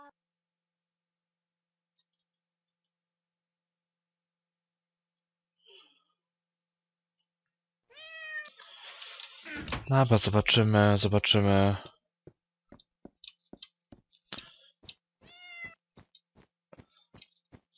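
Cat meowing in Minecraft with the Mo Creatures mod, a few short synthetic meows among game clicks and rapid tapping, while someone talks in Polish over part of it.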